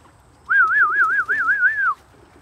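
A racing pigeon gives a single clear, warbling coo lasting about a second and a half, close and loud against a quiet background.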